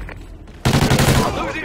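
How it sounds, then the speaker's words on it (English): Burst of rapid gunfire in a StrikeZone multiplayer match, with a shotgun in play: quiet lead-in, then loud dense blasts packed together for about a second before tailing off. "I'm running out with a shotgun now"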